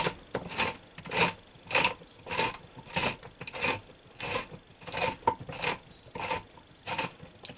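A pepper mill grinds fresh pepper in steady, rhythmic rasping twists, about a dozen even gritty turns heard close up with no talking.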